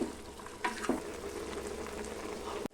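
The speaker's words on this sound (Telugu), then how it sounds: "ఆయిల్లోనే బాగా ఫ్రై కావాలి." Mutton kidney pieces with turmeric and rock salt fry in hot oil, giving a steady close sizzle with a few stirring clunks, then cutting off abruptly near the end.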